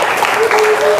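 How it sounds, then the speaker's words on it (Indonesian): A classroom of students gives the reader a short, lively round of applause; a teacher's voice and a faint tone sound through the clapping. "kasih aplaus yang bagus karena pembacanya juga bagus"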